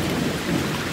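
Rain falls outdoors near Chaiturgarh Fort while thunder rumbles, a brief, dense wash of rainfall over a low rolling growl, with no voices.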